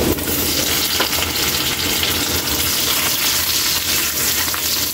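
Garlic tossed into hot oil with golden brown ginger, cooked for squid adobo, gives a loud, steady, close sizzle with stirring scrapes throughout.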